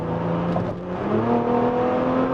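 A Maserati Levante SUV accelerates, its exhaust note a steady, low-to-mid engine drone that rises slightly in pitch over a couple of seconds. The sound is close and fairly loud, with no talking.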